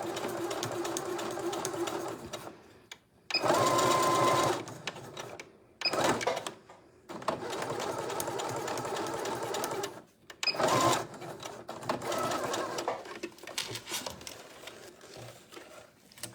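Sewing machine stitching a parallel seam on a bag strap, running in several bursts of steady whirring with short pauses between passes.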